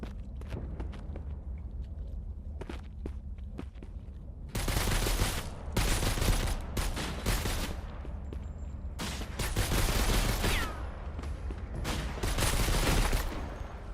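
Gunfire in the trench warfare video game Trench Tales: scattered shots at first, then dense bursts of rapid fire and volleys sounding close and loud, with quieter gaps between.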